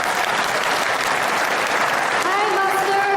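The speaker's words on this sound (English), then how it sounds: "let's now welcome Supreme Master Hайн with a warm round of applause" A warm round of applause from an audience at a vegan-themed event, dense continuous clapping throughout, with voices starting to rise over it near the end.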